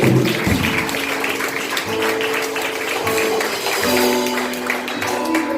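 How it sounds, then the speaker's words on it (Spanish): Congregation applause at a church service fills the space, a dense steady clatter of clapping lasting throughout, with sustained musical tones underneath. "Bríndale un fuerte aplauso."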